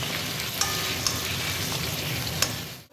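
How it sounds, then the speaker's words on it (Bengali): Potatoes frying in a little hot oil in a pan, a steady close sizzle with a few sharp crackles and pops throughout. "আলুগুলো দিয়ে দিয়েছি। এক এক করে সব সবজি আমি ভেজে নেব।"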